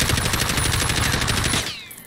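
Rapid automatic gunfire from a video game played on Xbox One or PS4 with a Strike Pack anti-recoil mod, a dense loud continuous burst lasting under two seconds before cutting off abruptly.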